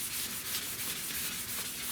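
Steady, continuous rubbing of wet sandpaper over guide coat on a car body being prepped for paint, a broadband scratchy hiss with slight rhythmic strokes, close and loud throughout.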